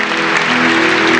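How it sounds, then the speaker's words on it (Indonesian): Applause for a speaker at a church service, loud and dense, with a sustained tonal hum of music or organ running underneath the clapping. "Berikan tepuk tangan buat dia."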